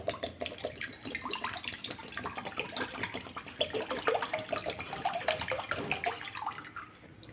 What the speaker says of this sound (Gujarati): તો ફરીથી આપણે એ જ પેનમાં એક લીટર જેવું પાણી એડ કરીશું